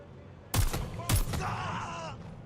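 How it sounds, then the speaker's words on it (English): Two sharp, loud gunshots half a second apart in the action game Watch Dogs: Legion, followed by a lingering echoing tail and a brief groaning voice. "Someone's shooting."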